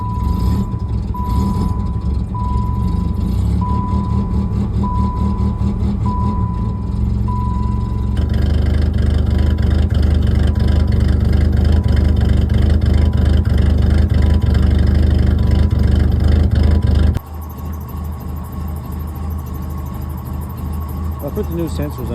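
An old car, a 1994 Acclaim with new sensors and a rough-running engine, idles and revs under throttle while a steady beeping sounds early on, loud and close throughout.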